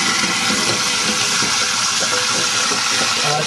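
Cold tap water runs steadily and loudly, a constant close-up gush used for cooling boiled eggs for egg salad.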